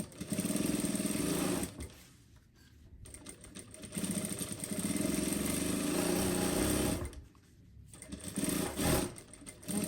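Sewing machine stitching a topstitch seam along the edge of a bag, running in long steady whirring bursts separated by brief pauses, close and loud with no talking.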